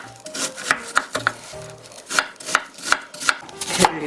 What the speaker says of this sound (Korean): 배를 이렇게 작은 크기로 잘라주시고